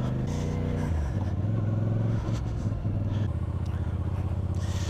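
A CF Moto 450CL-C motorcycle pulls away in first gear, its engine revving up in steps with a throaty mid-pitched drone, close and fairly loud throughout.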